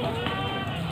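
A bleat from goats on sale at a goat market selling large Jawa Randu and Etawa bucks, one brief sustained cry close and loud, filling the whole moment with a noisy crowd behind it.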